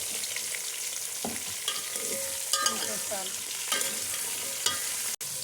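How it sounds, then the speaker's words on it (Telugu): Drumstick (moringa) pieces stirred in a sizzling pan while cooking sambar, steady frying hiss with scraping stir strokes and occasional clinks, close and alone without talk. "ఇప్పుడు ఇందులో మునక్కాడలు వేసుకోవాలి"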